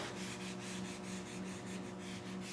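Rubber trim on a 1997 BMW E36 M3 sedan is rubbed with conditioner, giving a close, quiet, rhythmic swishing in regular back-and-forth strokes.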